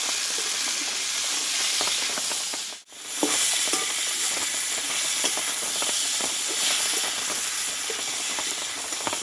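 Pointed gourd (potol) frying in a pan gives a steady, dense hissing sizzle that continues throughout, broken by one brief dip into near silence, close-up and with no one speaking.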